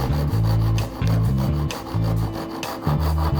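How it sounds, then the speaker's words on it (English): Hand saw cutting through a wooden keepsake box to free the lid, the work held in a vise; close, loud rasping strokes in a steady back-and-forth rhythm with no talk. "at this point, I can literally steer the saw as needed"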